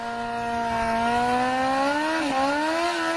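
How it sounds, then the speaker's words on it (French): A motorcycle hums steadily past at a distance, its engine pitch sliding up and then dipping as it goes by, with no voices. "désolé pour la moto"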